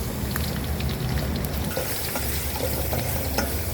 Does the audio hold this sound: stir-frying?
yes